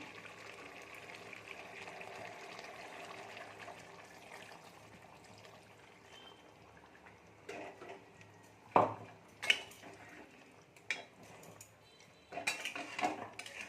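A spoon stirs chicken curry in a pot after water is added, with low bubbling and then several close clanks and scrapes against the metal toward the end.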